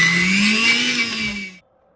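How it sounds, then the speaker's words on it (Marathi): A kitchen mixer grinder whirs through soaked lentils and water for dahi vada batter, a steady high motor whine up close that cuts off abruptly after about a second and a half. "आता मिक्सर चालू करून घेतोय."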